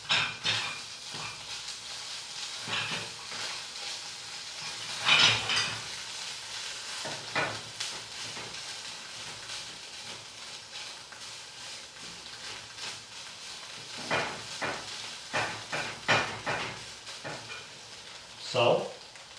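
Shredded coconut frying in olive oil in a pan while being pressed down with a fork, giving a steady close sizzle with occasional scraping stirs and a few louder clatters.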